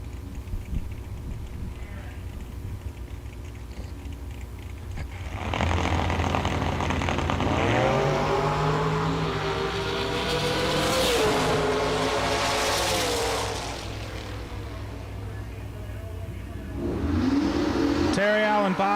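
At a no-box drag racing event, cars rev and launch down the strip, engine roar building loud for several seconds then fading, with a background murmur of a crowd or announcer.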